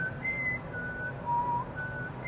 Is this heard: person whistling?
yes